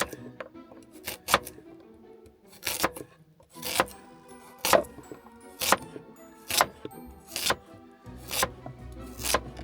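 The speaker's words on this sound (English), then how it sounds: "Something just satisfying about chopping up a carrot." A knife chops through carrots on a board in a series of sharp, close knocks, some in quick pairs, with brief pauses between.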